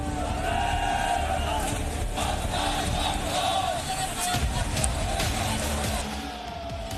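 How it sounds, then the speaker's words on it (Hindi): A crowd protesting against BJP leader Suvendu Adhikari in Haldia, a dense, continuous roar of many voices shouting slogans close by, with traffic noise mixed in throughout. "शिवेंदु अधिकारी और बीजेपी के विरोध में नारेबाजी हुई।"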